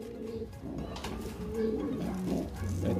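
Pigeons coo steadily in a loft, their low, rounded calls repeating close by with soft overlapping murmurs throughout.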